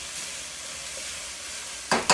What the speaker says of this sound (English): So we put the garlic in.